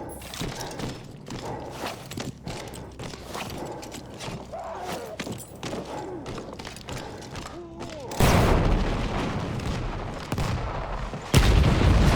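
Explosions and gunfire in the World War I shooter Battlefield 1, during an Italian mountain mission: scattered shots and rumbling combat noise, then two loud, close booms near the end.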